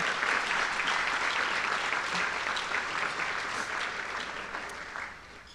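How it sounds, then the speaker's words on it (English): Warm applause from an audience for an honoree at a Latinos on the Move event, sustained dense clapping that gradually fades toward the end. "Can we please give Mr. King Harris a warm applause, everyone?"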